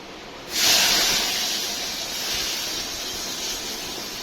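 Small onions hit hot oil in a home kitchen, bursting into a loud sizzling hiss half a second in, then settling into a steady, slightly quieter frying sizzle.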